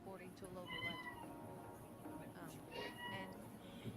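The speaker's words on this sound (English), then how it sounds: "I hear kitty cats." Cats meow in a few drawn-out, wavering calls heard faintly against a steady low background rumble, with voices murmuring underneath.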